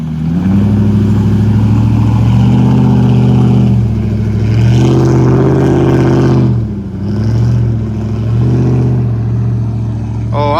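A Mitsubishi Pajero fitted with tractor-tread tyres revs hard while stuck in a swamp, its engine loud and close with sustained rising and falling drones.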